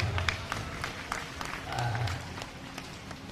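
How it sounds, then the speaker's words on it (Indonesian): Audience clapping at a question-and-answer session with santri, faint and scattered, with individual claps standing out over a low hum and brief murmurs. "Oke, tepuk tangan dulu."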